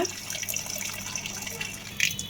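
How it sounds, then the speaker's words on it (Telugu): Water from cooked rice pours and trickles steadily through a cloth, splashing lightly as it drains away, with a brief louder splash near the end. "ఇలాగా అన్నం వార్చడం బట్టి వాటర్ ఇలా వెళ్ళిపోతుంది సైడ్లోంచి"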